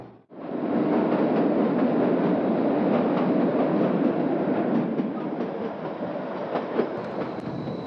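A train on the Shimla railway runs through tunnel No. 10, about 700 metres long and the second longest on the route, making a loud, steady, enclosed roar with dense wheel rattle throughout and no voices.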